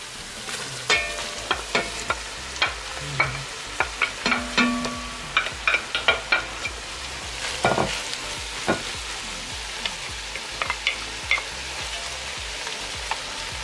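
Vegetables hit a sizzling pan already holding browned shrimp and onion, giving a steady loud frying hiss broken by frequent clacks and scrapes of stirring.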